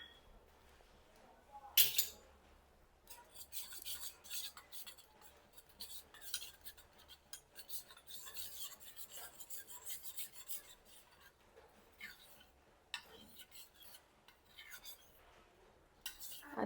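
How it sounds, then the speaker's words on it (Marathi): A spoon scrapes and stirs custard powder into cold milk in a bowl, a steady rasping, rubbing sound close by with a sharp clink near the start and occasional knocks against the sides. "आता एका थंड झालेल्या दुधामध्ये हे कस्टर्ड पावडर मिक्स करायचं आहे."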